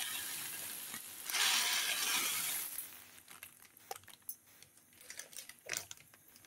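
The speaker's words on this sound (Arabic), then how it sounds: "هنبتدي بقى نحمر الشعريه بتاعتنا" Vermicelli frying in oil in a pot for Egyptian koshari, a bright close sizzle swelling for a couple of seconds, then settling into softer crackles and scattered pops.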